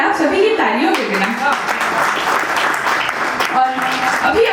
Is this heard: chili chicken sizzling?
no